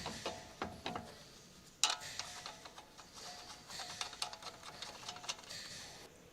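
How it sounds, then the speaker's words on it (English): A ratchet clicks quietly as it tightens the upper control arm ball joint retaining nut on a Dodge Ram 1500, a faint run of mechanical ticks with one sharper knock. "Install the upper control arm ball joint retaining nut."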